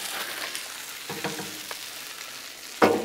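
Fajita smash burgers sizzle on a Blackstone griddle, a soft steady frying hiss with a few spatula scrapes and a louder scrape at the end, no talk.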